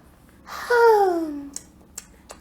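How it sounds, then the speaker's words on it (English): A baby gives one drawn-out yawn, a breathy voiced sigh that falls in pitch, followed by a few faint clicks. "I love when he yawns."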